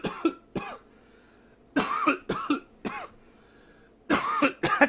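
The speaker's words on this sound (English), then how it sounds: "a hell of a cough I got" A man coughs in several harsh, close bursts, some in quick pairs, separated by short pauses of near silence.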